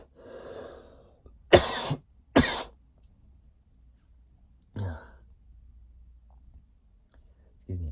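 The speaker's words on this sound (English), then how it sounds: "I've been coughing like this for ages right now" Two sharp, loud coughs in quick succession, then a softer cough a few seconds later and another at the end, with quiet breathing between.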